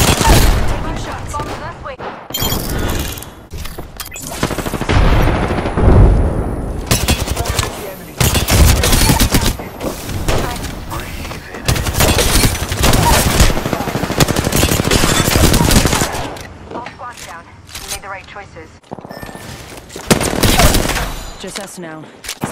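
Rapid gunfire in the battle royale game Apex Legends: dense bursts of loud automatic shots and sharp impacts keep going almost without a break, with brief short voice callouts mixed in.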